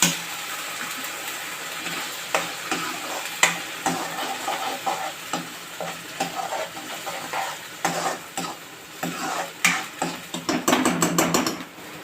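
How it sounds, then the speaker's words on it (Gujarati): Spoon stirring tomato puree into a sizzling potato curry (dum aloo) in a pan, with scraping and clinks over a steady frying hiss, close up and no talking. "હવે આપણે એને બરાબરથી પાછી હલાવી લઈશું."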